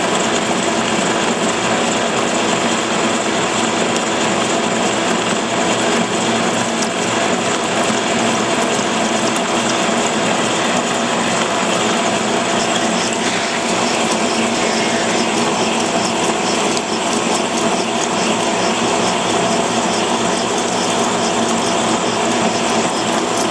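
A K&T milling machine takes heavy quarter-inch-deep cuts in nasty stainless steel at 136 RPM and a one-inch-per-minute feed, with carbide inserts. The cutting is a loud, steady, dense grinding roar that runs without a break.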